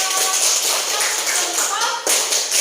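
A classroom of students claps together, a dense, continuous patter of many hands that dips briefly and resumes, with voices talking over it.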